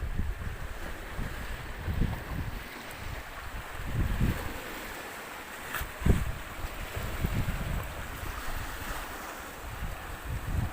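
Sea surf and gusting wind on a cliff top, with low rumbling surges and wind buffeting the microphone. The sound comes in irregular swells over about ten seconds, with no talking.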